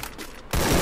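Gunfire rattles in the shooting game Free Fire as a short, loud, close burst that starts abruptly after a quieter stretch of game sound.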